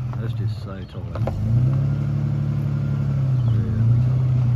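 Engine of a Chrysler VH Valiant Ranger with a 215 six and three-on-the-tree manual, idling then revving up into a steady loud drone, close by with people talking over it.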